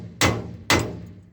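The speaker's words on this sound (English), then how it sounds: "So I took the hammer," A hammer strikes a stuck wheel bolt on a Gehl flail chopper twice, two sharp metallic clanks about half a second apart, each ringing briefly and fading, close and loud with no talk.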